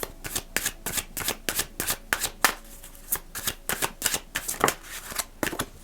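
Energy cards being shuffled for a card reading, a steady run of quick, close riffling and slapping bursts that repeat in an even rhythm with no talk.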